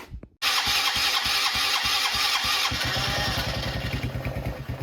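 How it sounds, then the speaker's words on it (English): A 70cc Chinese quad's small engine fires up after a brief pause, then runs loud and close with a rapid, even pulsing putter that settles toward idle. "let's just go ahead and fire this thing up"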